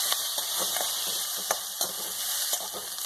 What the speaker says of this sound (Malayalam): നമ്മൾ എടുത്തു വെച്ചിരിക്കുന്ന ചീമച്ചക്ക അരിഞ്ഞ് അങ്ങോട്ട് കൊടുക്കാം